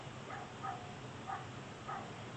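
A dog barks outdoors at a distance, four faint, evenly spaced yips over a low, steady background hum.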